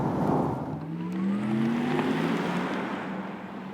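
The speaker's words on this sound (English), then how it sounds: "let's accelerate it out without the sport sound" Porsche Taycan 4S electric car accelerating hard at highway speed, a steady rising electric whine over heavy road and wind roar, no engine note.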